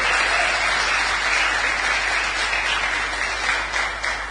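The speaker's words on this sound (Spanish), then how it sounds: "Dale un fuerte aplauso al Rey de los cielos." A church congregation applauds during a Spanish-language sermon, a loud, continuous wash of clapping that holds steady throughout.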